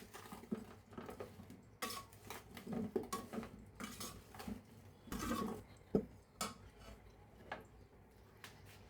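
Ground roasted spices and salt being mixed by hand in a metal bowl for a jalpai (olive) pickle, with quiet, irregular clinks and scrapes of a spoon against the dish, close and soft.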